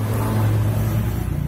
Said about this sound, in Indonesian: Berikut ini adalah suara knalpot singa ketemu anjing.